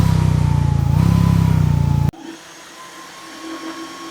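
ANGWAT T1 electric scooter motors whine loudly under acceleration with a rising tonal hum, then cut abruptly halfway through, leaving quieter rolling and wind noise.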